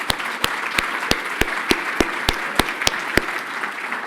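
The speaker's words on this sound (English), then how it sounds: "So a big round of applause for Michelle." A crowd at an awards ceremony claps steadily, with sharp regular claps cutting through the dense, even applause for about four seconds.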